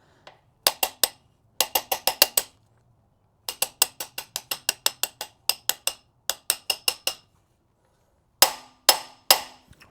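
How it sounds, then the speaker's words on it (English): Sharp metallic taps from a 1/2-inch ratchet used as a hammer on metal during a BMW E36 M3 engine refresh, struck in quick bursts of three to six, ringing briefly, with short silences between the groups. "Don't mind me using my 1/2 inch as a hammer."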